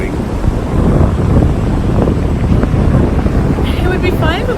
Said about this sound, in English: It would be fine if it wasn't so windy. It's pretty windy, yeah.